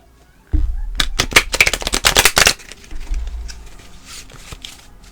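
Cards are riffled in a quick burst of crisp flutters, followed by softer shuffling and handling noises.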